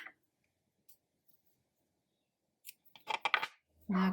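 Scissors trimming crochet yarn, a few faint quick snips against near silence, with brief rustling and a voice speaking toward the end.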